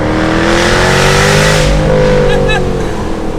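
A loud Jaguar F-Type R AWD sports car engine revs hard through the gears and climbs in pitch, staying close and dominant throughout, with a brief voice in the background.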